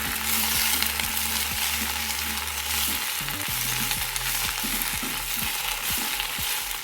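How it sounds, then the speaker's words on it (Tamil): Gongura leaves sautéing in oil over a low flame, a steady close sizzle with a series of sharp stirring scrapes and knocks against the pan, no voices. "இப்போ நம்ம இந்த கீரையை நல்லா எண்ணெயிலேயே வதக்கணும்."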